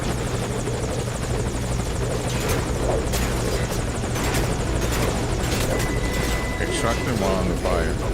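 Helicopter in a stealth video game, a loud continuous rotor thrum and buzzing hum filling the whole stretch, with game voices and effects layered over it.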